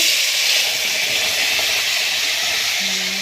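Tomato sauce hits a hot pan of sautéed garlic with a steady, loud, broad sizzle that holds unbroken throughout.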